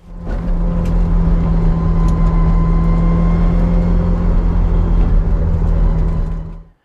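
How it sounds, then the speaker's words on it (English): Ferrari F355 Challenge car driving with significant gear noise, a steady loud mechanical drone with a sustained whine layered over the engine, continuous at close range with no talk. "this car has some pretty significant gear noise"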